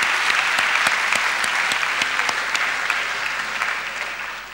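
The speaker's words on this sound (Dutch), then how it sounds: "Geef de moeders een applaus, mensen." A church congregation applauds the mothers during a service, steady dense clapping filling the room with a few sharper close claps standing out, continuing without pause and easing slightly toward the end.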